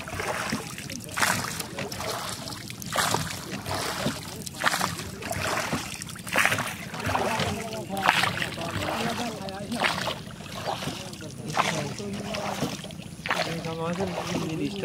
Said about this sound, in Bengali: নৌকা ছেড়ে দিয়েছেন